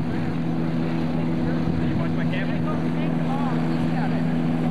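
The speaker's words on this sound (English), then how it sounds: "here comes an airplane in" A light airplane comes in to land at a gyrocopter fly-in, its engine drone a steady buzz with a strong low hum, close and continuous beneath someone talking.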